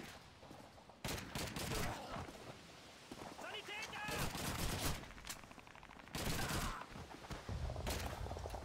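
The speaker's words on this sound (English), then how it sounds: "I cannot see who I'm shooting" Heavy rifle and machine-gun fire in a Call of Duty 2 D-Day battle at Pointe du Hoc, loud overlapping bursts and volleys filling the scene, with a voice speaking over the combat.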